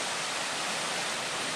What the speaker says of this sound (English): This is the water running out the end.